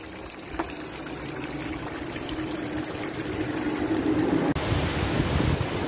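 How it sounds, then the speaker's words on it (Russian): A waterfall in Abkhazia pours with a steady, loud broadband rush, continuous and close, with no voices over it. "Водопад «Мужские слезы»"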